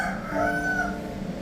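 A live chicken at the Remu market in Sorong gives a drawn-out crowing call, close and fairly loud, with no one talking.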